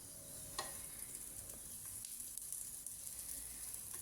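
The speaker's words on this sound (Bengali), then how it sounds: "আরেকটা আমি ভেজে নিলাম" A flour-dough paratha made with yogurt fries in a pan, a soft steady sizzle with small crackles and a few faint ticks, close and continuous without voices.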